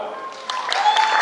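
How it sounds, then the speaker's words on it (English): At a 2012 University of Phoenix graduation ceremony in Nashville, an audience breaks into scattered clapping that builds slightly over about a second, with a faint hum underneath. "Clap if you want the boring one."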